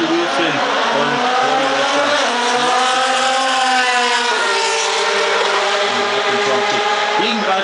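DTM race cars at Oschersleben in 2010 rev their engines loudly on the grid during start practice, high droning tones rising and falling together as several cars blip their throttles, with a commentator talking over the engines.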